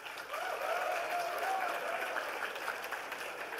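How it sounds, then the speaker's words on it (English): Audience at a School of Commerce convocation ceremony applauding steadily, a dense wash of many hands clapping at moderate volume throughout, with a faint voice briefly audible beneath. "A clap for that."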